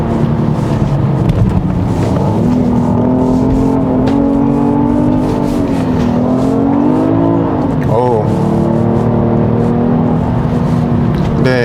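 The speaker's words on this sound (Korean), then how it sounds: "엔진은 계속 열심히 그 회전을 합니다" A 2021 Genesis GV80 3.5T AWD engine revs steadily in sport mode on a winding road, a continuous loud drone rising and falling with the throttle while someone talks over it.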